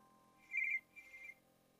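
Telephone ringing indoors, two short electronic ring bursts, the first louder, fairly faint and alone with no talking.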